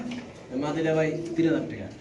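A female Indonesian fancy pigeon coos in soft, low throaty rolls, close by and mostly beneath someone talking over it.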